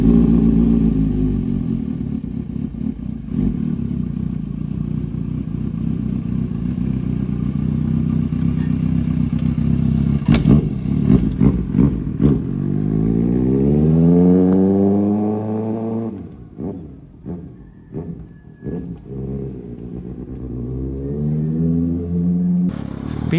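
Kawasaki ZX-6R sport motorcycle engine droning while riding, then revving and shifting through gears with rising pitch, loud and close, with wind buffeting.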